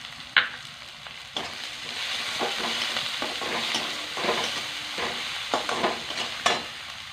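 Coriander and cumin powder go into a sizzling pan of oil for a rita fish dopiaza, a steady fry hiss broken by several sharp spoon-and-stir clinks near at hand, with no talk.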